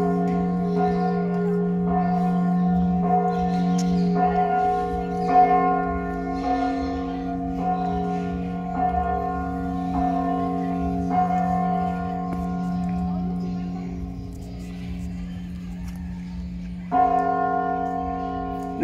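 Church bells at the Santuario del Santo Cristo Milagroso in Tanhuato, Michoacán, toll in a slow, steady rhythm, each strike ringing and overlapping into a long, humming resonance, fairly close and clear.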